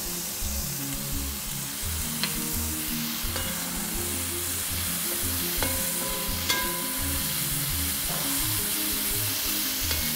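Garlic sizzles and fries in a hot pan for a chicken stir fry, a steady close crackle with occasional stirring scrapes and clinks over about ten seconds, with no talking.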